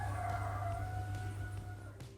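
Roosters crowing at dawn in a rural village in Wuyuan, Jiangxi, China, their long calls sounding faint and distant over a constant low background hum, with a brief knock near the end.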